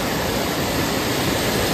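A mountain stream flows down near Ban E-Tong, Pilok, in Kanchanaburi: a steady, full rush of water that fills the short moment, close and unbroken, with no voices.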